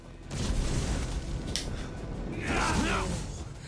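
A mortar-like explosion in the video game Assassin's Creed Valhalla: a broad, rumbling boom that swells and lingers for a few seconds, then surges again with a gritty, creaking roar.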